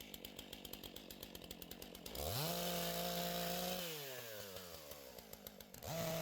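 A chainsaw buzzes steadily, then bogs down into a loud, lower drone as it bites into fallen pine, revving back up near the end.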